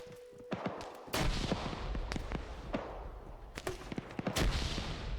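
Combat in an Arma 3 Helm's Deep defense match, with sharp gunshots and heavier booming reports that fit grenade launcher fire, loud near blasts scattered among lighter cracks over a continuous battle din.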